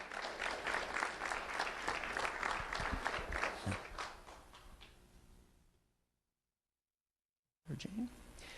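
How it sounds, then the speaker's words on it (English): Audience applause for award winner Jane Hines at a school awards ceremony, loud sustained clapping for about five seconds that fades to silence, followed by a brief voice. "Round of applause for Jane Hines."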